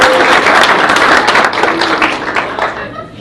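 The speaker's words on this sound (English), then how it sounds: "You better give her a second hand of applause" An audience at an induction and send-off ceremony applauds an inductee, with loud, close clapping that begins strong and tapers off over about three seconds.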